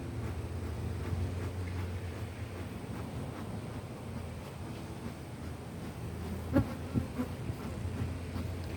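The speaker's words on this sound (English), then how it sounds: "See if I can get these bees" Honeybees buzz around a backyard hive frame in a steady, close, droning hum with some wind noise over the microphone, and a brief louder bump near the end.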